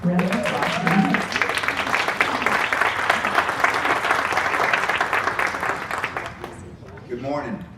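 A conference audience at a speaking summit applauds loudly and steadily for several seconds before the clapping fades out; a voice comes in briefly at the end.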